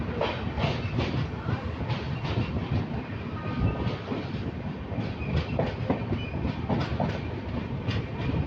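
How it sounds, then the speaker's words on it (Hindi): A moving passenger train between Bhubaneswar and Tirupati, passing Ichchhapuram, with a dense, continuous rumble and rhythmic clickety-clack of wheels over rail joints throughout, heard from inside the carriage. "तो चलते हैं, अभी ट्रेन छूटेगा।"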